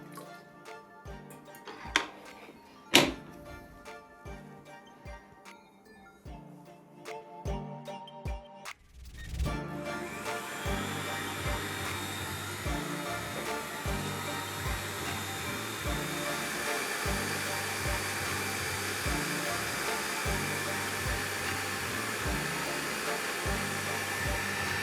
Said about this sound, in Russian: в сухую дежку отправляем белок и начинаем его взбивать венчиком, все так же на средней скорости